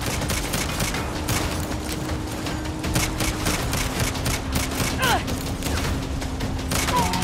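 Sustained gunfire in the Saints Row game during a convoy mission, dense rapid shots and booms under voices talking.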